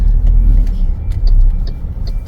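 Traffic noise from many cars on a crowded road on a busy Sunday, with footpaths lined by parked cars: a steady low rumble of engines and passing vehicles, continuous and fairly loud, with occasional faint higher tones and no talk.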